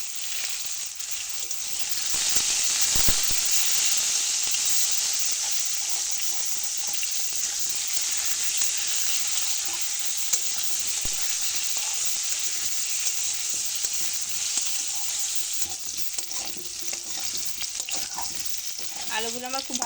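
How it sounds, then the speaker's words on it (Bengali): Potatoes fry in hot mustard oil with a pinch of salt and turmeric, giving a steady, loud sizzle throughout with occasional stirring scrapes, close up and without talk. "আলুগুলো ভেজে নেব।"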